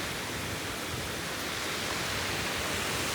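Water flows steadily at a fish pond in Bhaderwah, a constant, even hiss of rushing water that fills the whole scene without pause.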